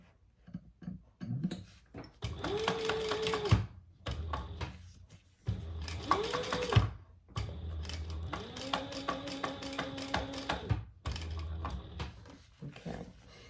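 A domestic sewing machine top stitching a folded quilting seam at an eighth-inch allowance: several bursts of rapid mechanical whirring with rising and falling motor whine, separated by short pauses, close and moderately quiet.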